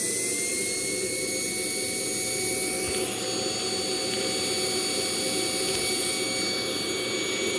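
A Hoover C2401 backpack vacuum cleaner pulls suction through its hose, a loud constant roaring whoosh with a thin high whine riding on top, steady throughout with no voices.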